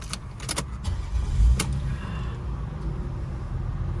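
A project car's engine cranks with an irregular churning whir, then settles into a steady low running rumble close by.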